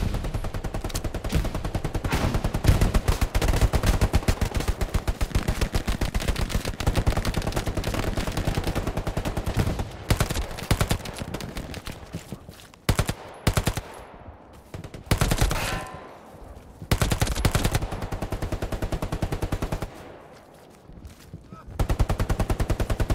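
Video game machine-gun fire in dense, sustained bursts, loud and close, broken by brief pauses and renewed volleys, with players talking in between.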